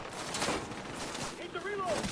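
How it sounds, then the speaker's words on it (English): Gunfire rattles at an enemy in the shooter game The Division 2, in brief bursts mixed with game sounds and chirping effects, close and moderately loud. "And the ads are shooting him in the ass."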